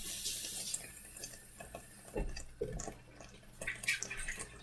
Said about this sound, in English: We're actually gonna add a little bit of water so we can get the rest of the sauce that's in the blender out of here